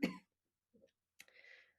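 A cough bursts out at the start during a presentation on social media strategy, followed by a short throat-clearing sound and a rougher second burst a second later, all close and fairly quiet with no speech.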